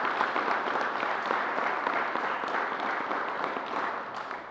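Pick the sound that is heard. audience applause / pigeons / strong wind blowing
audience applause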